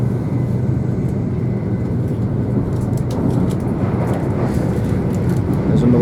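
Avanti West Coast Pendolino train passing on the line near Kilburn High Road, a heavy continuous rumble and rushing roar with rattling clicks, heard from aboard another train.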